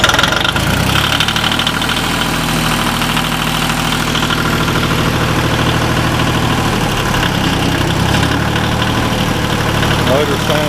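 A John Deere 850 diesel tractor engine idles steadily at close range, a continuous low rumble with a faint knocking texture that holds even throughout.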